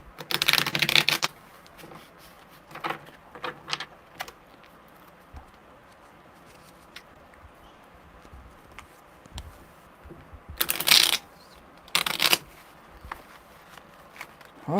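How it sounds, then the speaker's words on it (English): Tarot cards are shuffled in quick riffling bursts, loud at the start and again near the end, with quieter soft handling and taps between. "The way the cards shuffle, holy wow."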